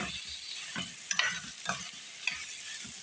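Chicken stir-frying in a pan, soft continuous frying hiss broken by a few scraping utensil strokes, close by with no voices.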